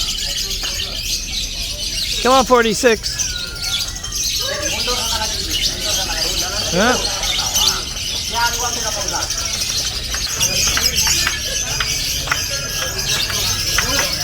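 Songbirds at an Indonesian singing bird competition chirp and trill in repeated short bursts amid a busy outdoor crowd, with people talking nearby throughout.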